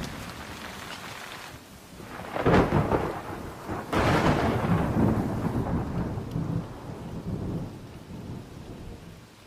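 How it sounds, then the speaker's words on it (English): A thunderstorm with steady rain, broken by two heavy rolls of thunder that swell and rumble before fading back into the rain's constant hiss. "I hear rain."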